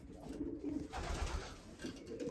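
Racing pigeons cooing at their home loft, soft repeated low coos over a steady background hum, close and continuous with no talking.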